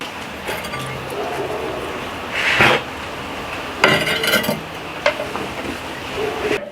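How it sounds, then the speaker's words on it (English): Metal grill grates being set into a Pit Boss K24 ceramic charcoal grill, giving a few clanks and scrapes of metal against metal at close range over a steady background hiss. "So I will place the grates and put the cheese on the grate."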